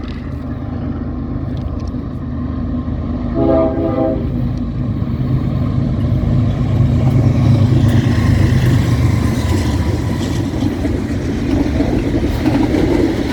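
A BNSF freight train hauling spine cars rolls past loud and steady, with a long continuous rumble and clatter and a brief horn-like tone early on, no voices over it.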